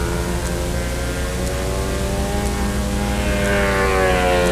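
A model aircraft flying inverted at a national competition drones steadily overhead, its propeller engine a continuous buzzing whine whose pitch slowly shifts as it passes, heard from a distance in the open.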